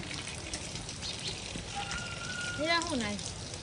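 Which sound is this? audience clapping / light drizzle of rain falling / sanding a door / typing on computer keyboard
light drizzle of rain falling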